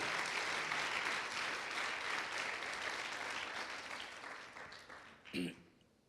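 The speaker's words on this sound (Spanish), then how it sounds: "Dale palmas si tú lo crees, aleluya, en agradecimiento a ese amor." A church congregation claps in thanksgiving during a Spanish-language service, a full, steady round of applause that gradually fades, ending with a single louder thump.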